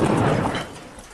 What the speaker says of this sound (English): You saw that rocket hit a few feet away from reporter Steve Sweeney and his cameraman.